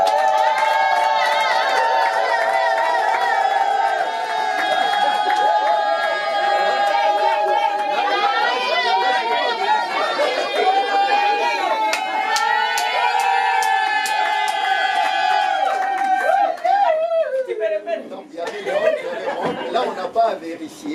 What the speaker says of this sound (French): Acclamons pour les tantes bien-aimées.